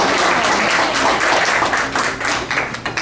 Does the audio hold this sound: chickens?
no